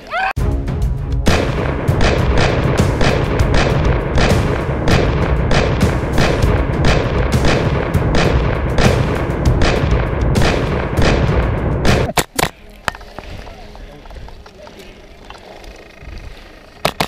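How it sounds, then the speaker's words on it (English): Airsoft BB guns fire during a game storming a boat house, a loud, dense crackle of rapid overlapping shots for about twelve seconds, then only a few scattered, quieter pops. "They're shooting at each other and they're just BBs."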